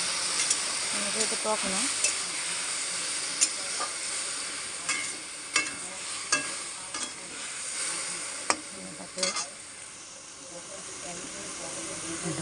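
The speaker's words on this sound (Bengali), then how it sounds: "এখানে আমি একটু জল দিয়ে দেবো, বেশি না, একটু জল দেবো" Water splashed into a hot pan of softening rice hisses and sizzles steadily with sharp crackles and pops, close and loud, while a voice speaks briefly over it.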